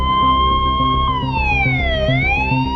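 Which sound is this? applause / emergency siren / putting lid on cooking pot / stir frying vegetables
emergency siren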